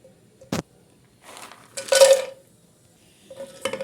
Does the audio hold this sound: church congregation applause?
no